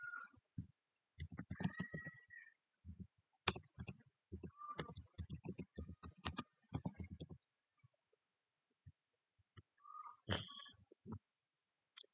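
Computer keyboard keys click in short, irregular bursts of typing separated by brief pauses, close and fairly quiet in an otherwise silent room.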